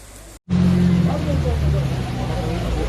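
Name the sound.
cars driving through flooded streets in rain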